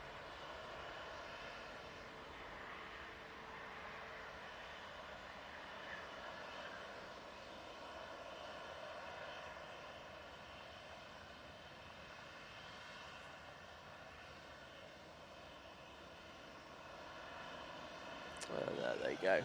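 An airliner departing Manchester Airport for Helsinki gives off a steady, distant engine roar and whine that holds for the whole stretch, with a louder burst at the very end.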